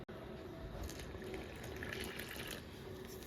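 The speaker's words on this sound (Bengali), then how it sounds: "এর ভিতরে উষ্ণ গরম জল দিয়ে ভালো করে মেখে নেব চালের গুঁড়োটাকে" Warm water is poured into rice flour for chitoi pitha in a home kitchen, a steady close trickling stream that continues without break, quiet and alone.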